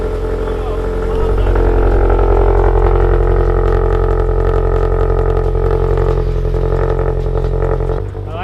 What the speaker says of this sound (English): you hear a built STi right now